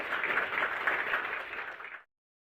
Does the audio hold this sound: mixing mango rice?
no